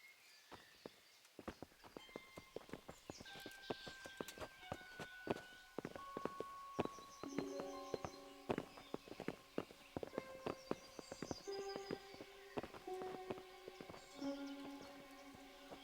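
Horse hooves clip-clop steadily in Kingdom Come Deliverance, several horses walking on a hard surface, with clanking tack and faint musical tones layered over the quiet, rhythmic footfalls.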